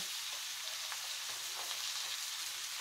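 Cabbage frying in a skillet, a continuous hissing sizzle with light crackle, steady and close, with no talk over it.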